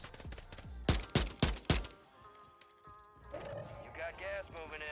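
Distant sniper gunfire in Warzone 3, four sharp cracks in quick succession early on, followed by quieter game ambience with faint tonal sounds and low rumble.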